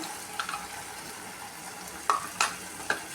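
Whisked yogurt poured into a hot potato gravy for aloo dum, giving a quiet bubbling simmer with a few sharp sizzles and stirring clatters near the end.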